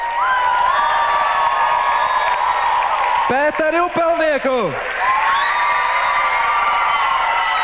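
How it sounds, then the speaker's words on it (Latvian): Crowd applause and cheers at the Jaunās zvaigznes 2007 talent contest as contestants come on stage, sustained clapping with whoops beneath a presenter announcing a contestant's name midway. "Sagaidiet ar aplausiem Līgu Mišenko"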